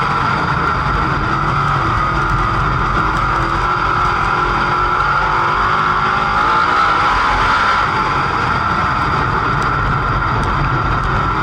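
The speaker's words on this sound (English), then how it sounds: "Keep an eye on this 28, 25 of Jason Fager and the 29 of Christian Hanger as they're both trying to roll around top and" Dirt race cars on a track roar continuously in a loud, steady engine drone with a buzzy whine, sustained without a break and no voices.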